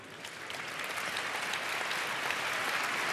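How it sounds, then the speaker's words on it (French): A steady wash of audience applause greets Olympic athletes at the BFM Awards ceremony, dense clapping holding at an even level throughout with no voices over it. "Vous pouvez d'ores et déjà les applaudir."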